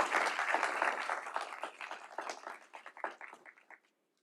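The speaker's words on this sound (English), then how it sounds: "So give all of those folks a round of applause." Audience applause at a Metro bus operations graduation honouring bus instructors, a brief burst of clapping that starts full and thins out over a few seconds before stopping.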